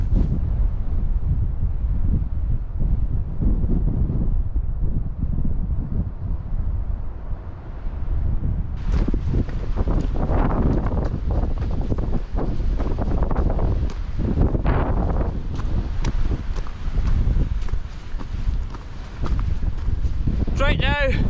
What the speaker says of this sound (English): The wind does come and go every so often, but predominantly we're getting hit with high gusts.